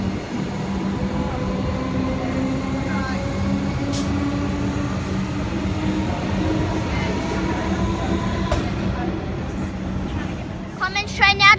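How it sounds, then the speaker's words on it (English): A Comeng electric train pulls out of Caulfield station in Melbourne, a steady low rumble with faint motor whine running throughout, while a person talks over it and a few sharp clicks come near the end. "Comeng train now departing to Pakenham actually"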